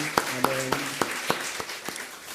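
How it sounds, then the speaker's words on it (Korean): A church congregation claps in a steady, rhythmic beat of distinct claps, with a voice and faint tones beneath. "우리 하나님께 감사의 박수 올려드리겠습니다"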